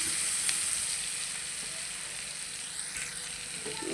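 Garlic fries in hot oil at the start of a spicy home-style chicken bhuna. A loud, steady, close sizzle hisses on without pause, and no one speaks.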